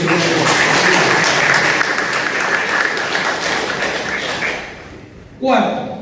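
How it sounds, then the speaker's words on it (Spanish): A church congregation applauds during a Spanish-language Sunday service, a loud, dense wash of clapping that holds steady for about five seconds, thins out, then gives way to a brief closing burst. "Dale un aplauso al Señor."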